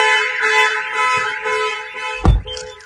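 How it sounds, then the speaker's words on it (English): A car alarm blares with steady, piercing electronic tones, then a sharp low thump cuts in near the end. "should a thief get in the car or set off the alarm for any reason"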